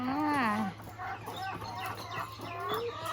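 Egg-laying hens cluck and warble in a farm coop, a string of rising and falling calls close by, with a low steady hum beneath.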